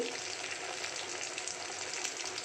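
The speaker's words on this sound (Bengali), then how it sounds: "এখন আমি এটাকে ভাজতে থাকবো" Steady, crackling sizzle of eggplant fritters frying in hot oil, continuous and even throughout with no voices.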